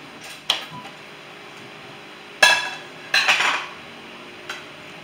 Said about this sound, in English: now I'm going to put in some crayfish.